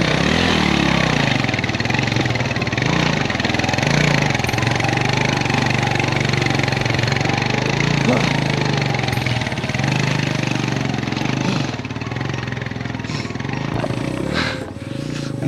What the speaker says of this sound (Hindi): बाइक को धक्का भी लगाना पड़ा भाई